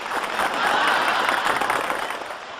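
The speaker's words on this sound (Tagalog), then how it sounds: "Thank you very much sa mga matatahimik na palakpakan" An audience breaks into applause at a live show, a dense wash of clapping from many hands that swells and then tapers off over a couple of seconds, fairly close and without distinct voices.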